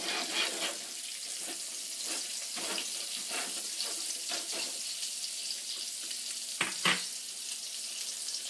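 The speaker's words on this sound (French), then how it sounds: "La viande, je laisse cuire d'un bord." Pork chops and mushrooms fry in oil in a pan. A steady sizzle runs throughout, with soft clatter and stirring bumps scattered over it and a couple of sharper knocks near the end.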